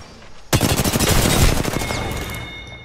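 Apex Legends gunfire erupts suddenly after a quiet moment, a rapid loud burst of automatic shots close by that rattles for about a second before trailing off into a fading echo.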